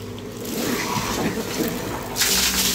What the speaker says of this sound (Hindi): देखिए हम मोटर चालू करते हैं ऑन कीजिए